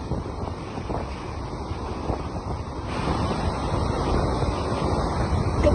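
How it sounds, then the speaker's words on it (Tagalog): Strong wind buffets the microphone at Boracay beach in front of a hotel, mixed with the rush of surf, a constant roar that swells louder in the second half. "napakalakas at napakasariwa talaga ng hangin dito"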